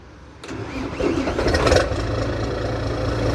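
A vehicle engine fitted with a newly installed S-type exhaust tip cranks and catches, then settles into a loud, rumbling idle with a brief rise in revs, recorded close up in a workshop.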